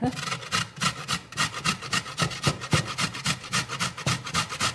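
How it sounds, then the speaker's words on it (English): Steady, rhythmic rasping of a raw beet scraped back and forth across a grater, close and fairly loud, with no talking. "So you just start grating, and pardon the noise here."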